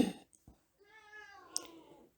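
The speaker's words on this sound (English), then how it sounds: "Excuse my cat." A pet cat meows once, a drawn-out mid-length meow close to the microphone in a quiet room, with a couple of small knocks around it.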